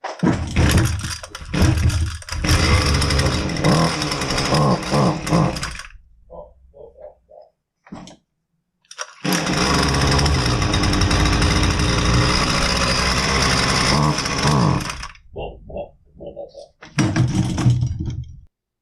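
A Husqvarna 128L string trimmer with a bogging fault runs loud and close in two long bursts of rough engine noise, separated by short gaps of sputtering and quiet, ending with another brief run.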